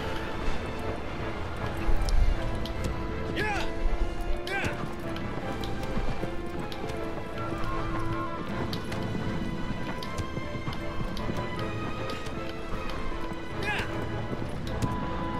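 A horse gallops in the video game Shadow of the Colossus, its rhythmic hoofbeats running under game music and effects, with a few louder crashing impacts and a voice talking over it.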